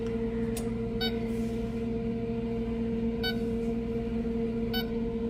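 An oven timer gives a few short electronic beeps at irregular intervals while being set, over a steady kitchen hum, with no speech.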